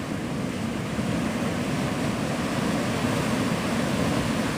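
Ocean surf rolling onto Navarre Beach, Florida, a steady, continuous wash of breaking waves with a constant roar, close and fairly loud, with some wind buffeting the microphone and no talking.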